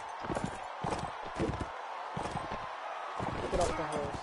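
Horse hooves clop during Mount and Blade Warband medieval combat gameplay, a faint irregular pattern of thuds mixed with game noise while a person talks over it.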